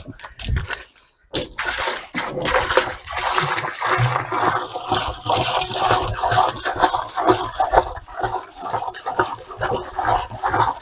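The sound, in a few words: pouring water while watering garden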